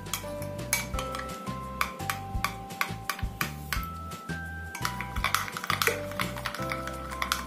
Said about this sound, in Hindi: इसके बाद हम इसमें डाल देते ये केसर वाला दूध इसको भी अच्छे से मिक्स कर लेते हैं